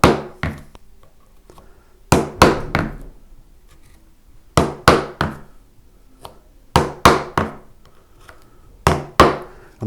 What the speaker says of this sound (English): all I do is put it in the hole, give it a little bit of a tap